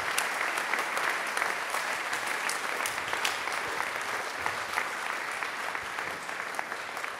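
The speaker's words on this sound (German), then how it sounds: "Einen grossen Applaus einmal für all die stillen Helferinnen und Helfer" Sustained, dense audience applause at the opening of a regional fair, many hands clapping steadily and evenly at moderate distance without a break.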